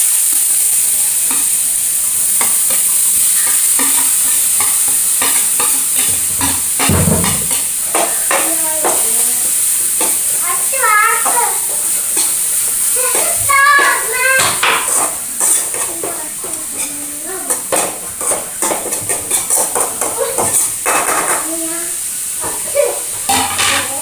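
Grated green papaya stirred in a hot pan for Kerala-style thoran, with a loud, constant sizzle, scraping stirs of a spoon against metal, and occasional clinks of the utensil.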